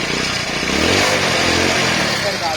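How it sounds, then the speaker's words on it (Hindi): A 2009 Hero Passion Plus motorcycle engine runs steadily and loudly up close, its mechanical clatter from the timing chain and tappets blending into a dense, continuous roar. "इसका गाड़ी में सिर्फ टाइमिंग चेन और टाइपिड का आवाज़ है"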